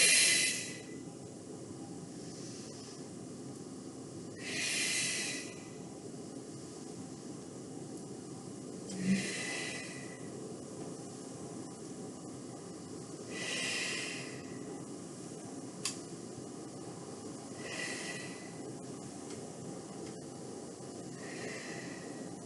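Slow, steady breaths in and out during chair sit-ups, about five soft airy exhales spaced several seconds apart over a low background hiss.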